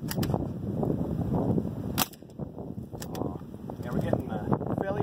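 Shots from a Fleming 10-22 rimfire rifle upper, a few sharp isolated cracks spaced irregularly over continuous outdoor wind noise and people talking.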